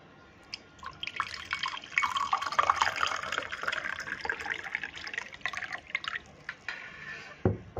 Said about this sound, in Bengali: তো আমি একটু এটাতে ঢেলে নিব।